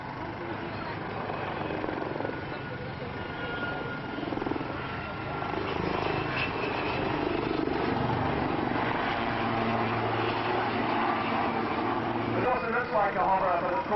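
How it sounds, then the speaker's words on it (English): Helicopters flying a display at Waddington Airshow 2006, in a 10 to 15 knot wind, drone and thrum continuously overhead, rotor noise loud and steady, with a voice talking over the engine sound. "So actually these helicopters are flying in that wind."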